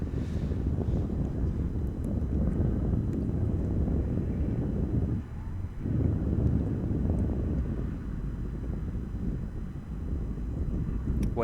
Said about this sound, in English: Wind picks up again.